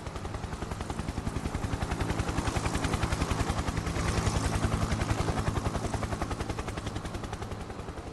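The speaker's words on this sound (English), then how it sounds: "Oh, chopper's back." A helicopter in Farming Simulator 22 on PS4 gives a rapid, steady rotor thudding that stays loud and continuous throughout, with no voices.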